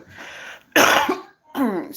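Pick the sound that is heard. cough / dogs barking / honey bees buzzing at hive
cough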